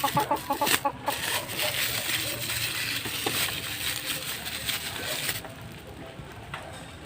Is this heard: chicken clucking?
yes